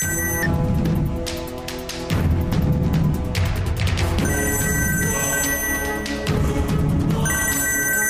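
A phone rings with a repeating melodic tone, each cycle lasting a couple of seconds, loud and close, with no talking.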